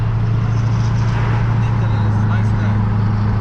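A Duramax diesel truck engine fitted with a cheap cold air intake runs at a steady, loud, low idle, with a constant deep drone throughout and a voice speaking over it.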